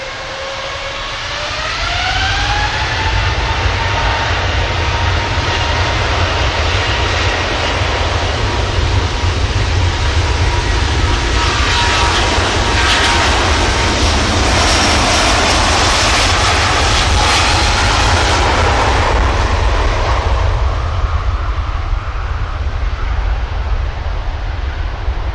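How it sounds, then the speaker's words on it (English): A Singapore Airlines Airbus A350 departing Manchester Airport, a loud rising jet roar that builds to a powerful sustained thunder at takeoff, then slowly eases as the aircraft climbs away. "But let's enjoy this 350 departing."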